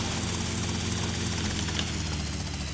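A helicopter engine in the video game GTA Vice City, modded version, drones steadily with a rhythmic rotor thrum, close and continuous with no talk.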